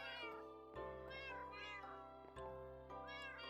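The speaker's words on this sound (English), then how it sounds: "All of you kitties in the window." Cats in the Minecraft video game meow repeatedly, several overlapping cartoonish mews in quick succession, faint and alone with no talking.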